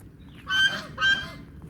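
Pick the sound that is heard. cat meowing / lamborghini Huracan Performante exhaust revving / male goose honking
male goose honking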